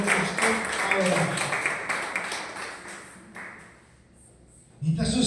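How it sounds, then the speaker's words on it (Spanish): A church congregation applauds, a dense burst of clapping that gradually fades into near quiet before a voice returns at the end. "Denle un aplauso al Señor si usted ha creído lo que usted ha orado."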